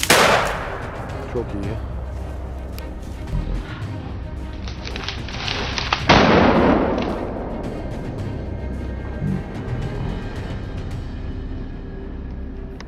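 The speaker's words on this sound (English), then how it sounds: "I quickly raised my gun and pulled the trigger repeatedly. After that series of shots" Repeated shots from a hunting gun fired at a wild boar on a mountain at the end of the day, a loud sharp blast near the start and another around six seconds, with outdoor noise and a brief voice between.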